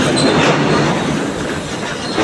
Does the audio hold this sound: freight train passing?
yes